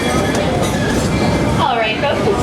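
A Walt Disney World monorail train rolling into Main Street Station, a steady loud rumble of the moving train with a brief squealing tone, and an announcer's voice speaking over it.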